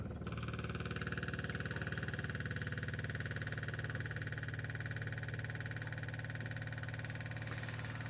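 A small pump labelled a click clacker runs steadily to transfer used engine oil during an oil change on a 1979 Peugeot 504, making a constant close mechanical hum with a fast rattling pulse.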